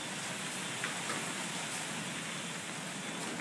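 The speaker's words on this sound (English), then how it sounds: "Oh, those are some big raindrops." Big raindrops fall during a storm, a dense, even hiss of rain pattering on surfaces nearby, continuous and steady throughout with faint scattered louder drops and no voices.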